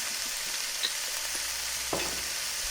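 Montbéliard sausage simmering in white wine in a pan gives a soft, steady bubbling hiss close by, with a couple of faint clinks or stirring touches and no voices.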